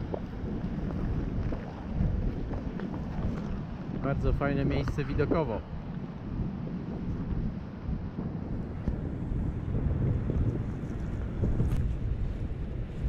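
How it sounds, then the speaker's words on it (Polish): Strong wind roaring and buffeting the microphone outdoors near the Atlantic Ocean off Iceland, with a person speaking briefly over it as wind blows spray off the waves. "No wieje ładnie, bo zobaczcie jak z fal zwiewa wiatr, ten, wodę."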